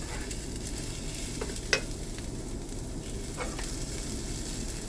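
Rice toasting in a pan before broccoli goes in, giving a steady, moderately quiet sizzle with a few sharp scraping or stirring clicks scattered through it and no talking.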